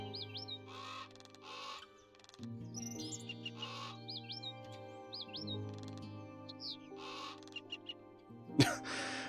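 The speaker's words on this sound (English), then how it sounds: "Can I click on the bird and get them to make a cheepy noise?" Digital bird calls play in the Wingspan board game as birds are clicked, giving a string of short chirps, whistles and caws over layered background game music, with a sharp click near the end.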